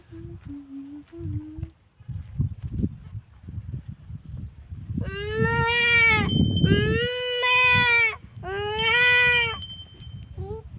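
After some voices and rustling, a sheep lets out three loud, drawn-out bleats close by, one after another, with background chatter continuing beneath.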